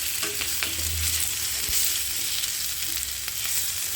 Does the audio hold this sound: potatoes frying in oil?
yes